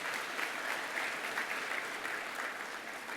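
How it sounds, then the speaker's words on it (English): Sustained applause from an audience at a hall of fame induction ceremony, an even wash of many hands clapping, heard somewhat distant and moderately quiet, with no voices standing out. "give yourselves a round of applause for being here"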